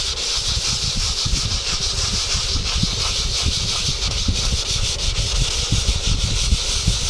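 Fins of an Estes Mean Machine model rocket are rubbed with fine sandpaper under light pressure, producing a loud, continuous close-up rasping hiss with rapid back-and-forth strokes and no talking.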